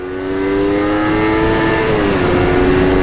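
A 250 motorcycle engine is revved hard toward red line, giving a loud, sustained, high engine whine that holds steady for about three seconds and dips briefly in pitch near the end.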